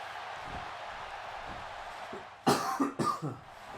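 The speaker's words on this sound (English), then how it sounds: "my cough's coming back now" Two or three sharp, loud coughs burst out near the mic over a steady low background hum, following a quieter stretch.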